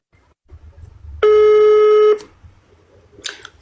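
A telephone call to an office in Saudi Arabia: one loud, steady electronic ringing tone holds for about a second over faint room noise, followed by a short buzzy burst.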